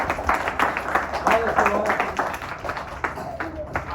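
Schoolchildren in a class clap for themselves, a scattered patter of hand claps running under a voice speaking throughout.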